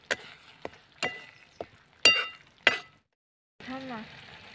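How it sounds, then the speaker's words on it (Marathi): Kasuri methi being stirred into masala paste in a pan over a wood-fired stove: several sharp scraping and clinking strokes of a spoon against the pan, then a short stretch of soft sizzling near the end. "आणि पुन्हा एकदा परतून घेऊया।"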